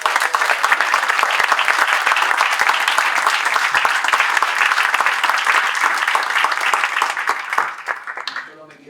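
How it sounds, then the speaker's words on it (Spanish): Sustained applause from a sizable audience at a panel discussion, dense steady clapping that carries on for several seconds before thinning out and fading at the end. "Yo les pido un aplauso."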